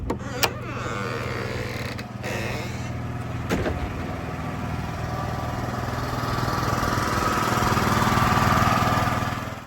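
A small portable generator engine idles steadily at close range, a continuous low droning hum with a couple of brief knocks early on.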